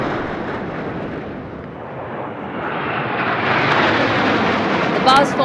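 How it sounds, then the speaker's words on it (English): Indian Air Force military jets in the Baz formation fly past at a Republic Day parade, a loud, sustained roar that swells as the aircraft pass overhead. "The Baz formation going past."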